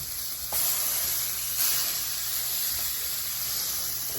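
One pound of ground sirloin sizzles steadily in a pan, a continuous broadband hiss with a couple of brief louder flares, close and alone with no talking.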